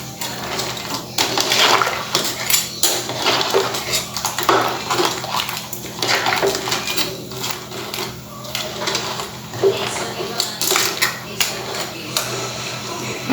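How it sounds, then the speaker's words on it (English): A spoon stirs Goan crab bafat with thick coconut milk and tamarind water in a pot. Close, rhythmic scraping and clattering of metal against the pan repeats steadily throughout, loud and without speech. "Mix it well."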